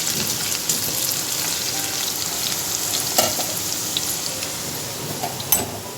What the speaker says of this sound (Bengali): আর এদিকে করছি প্রিন্সের ফেমাস আলু ভাজা